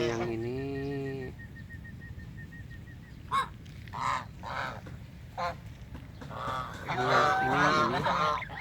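White geese honking in the open after heavy rain, a few close loud calls up front, then scattered honks and a louder burst of overlapping calls near the end.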